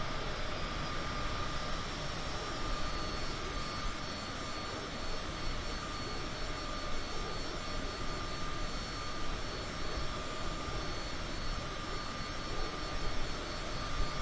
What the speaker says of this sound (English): With Microsoft Flight Simulator, we have a private jet to anywhere in the world.